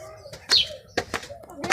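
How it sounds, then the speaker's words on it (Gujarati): A pet pigeon at home coos in a few short, soft throaty bursts spread over a couple of seconds, fairly close and moderately quiet. "અમારું કબૂતર આવી ગયું"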